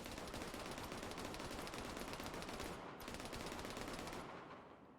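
Sustained enemy machine-gun fire in a video game rattles in a long continuous burst, breaks off briefly, then resumes before fading away near the end.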